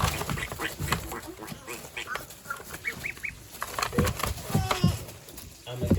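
A group of ducks on a homestead quacking repeatedly at close range in overlapping, irregular bursts, with a person talking among them.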